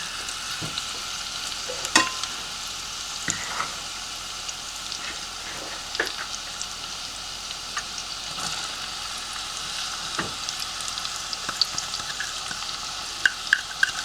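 Chopped onion frying in bacon grease in a pan, a soft continuous sizzle with occasional clicks and scrapes of stirring, heard up close and alone.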